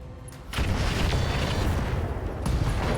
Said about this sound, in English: ATM ammo explosion there.